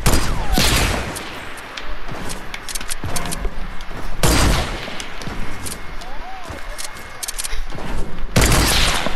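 Gunshots in Fortnite during a no-scope sniper battle, several loud sharp blasts spaced apart with gameplay noise in between and voices talking over them.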